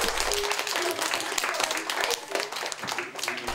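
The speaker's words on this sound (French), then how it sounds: "Voilà qui méritait bien des applaudissements" Applause from a school audience of students after a theatrical reading with an actor and playwright, a dense, steady patter of many hands clapping at close range that continues through the whole stretch.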